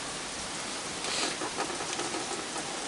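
Steady rain hissing down on a surface, a dense even patter that swells slightly midway, with no voices.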